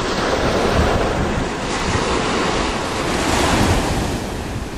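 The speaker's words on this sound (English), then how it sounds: "This is one of the most beautiful beaches in the island of Kauai." Ocean surf rolls onto a beach on Kauai, Hawaii, a steady broad wash of waves with wind buffeting the microphone, loud and continuous with no voices.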